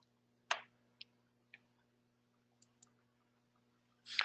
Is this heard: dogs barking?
no